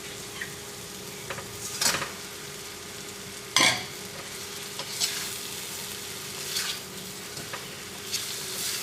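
Chicken stirred into thick masala paste in a pan on a Kerala stove, with a gentle sizzle beneath repeated scraping strokes of a spoon and one sharp metallic clack from a utensil partway through.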